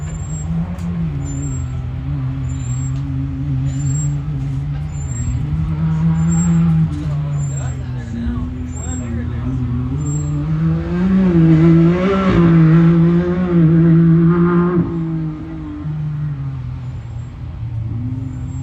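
A UTV Unlimited race vehicle crosses the start-finish line at the 2025 High Desert 100 in Powell, Wyoming, its engine a loud, steady drone that swells and shifts in pitch, with regular short beeps and commentators talking throughout.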